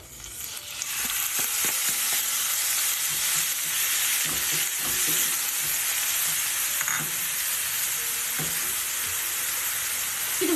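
Chopped onion and cumin fry in a pan for okra masala, a steady loud sizzle with occasional stirring scrapes and clinks throughout, no talk.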